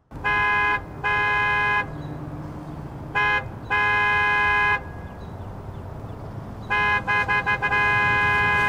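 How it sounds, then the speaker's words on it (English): A car horn honks furiously in long and short blasts, loud and near, with a rapid stutter of quick toots at the end. "with a horn furiously honking in the background"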